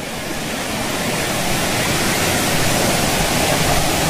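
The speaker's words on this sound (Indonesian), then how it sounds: "Suara aliran air dari air terjun yang di puncak sana." Water rushes down from a waterfall at a mountain peak along a hiking trail, a broad, steady roar with no breaks or voices.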